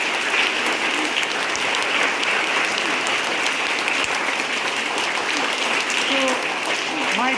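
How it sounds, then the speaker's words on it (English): An audience at a school-style gathering applauds a national figure, with loud, sustained clapping that fills the whole stretch evenly and is mixed with some crowd murmur and faint voices underneath. "Please once clap for him."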